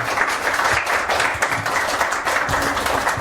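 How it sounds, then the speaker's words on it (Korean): A seminar audience applauds dense and steady as four presenters are called to the front, a continuous wash of many hands clapping at close range for about three seconds with no talk over it. "이건희, 최종열, 문은주, 이문규님 큰 박수로 저희가 앞으로 모시도록 하겠습니다"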